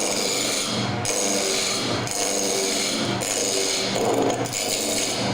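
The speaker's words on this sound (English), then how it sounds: "Spindle roughing gouge." A spindle roughing gouge cutting a spinning wood blank on a lathe, taking off square corners with a continuous loud rasping, scraping drone broken by brief dips about once a second as the tool moves.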